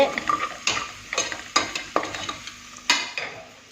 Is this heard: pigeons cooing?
no